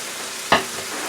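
Chicken pieces hit hot oil in a frying pan during a bourbon chicken stir fry, giving one sharp, brief sizzling burst that quickly fades back into a low, steady hiss.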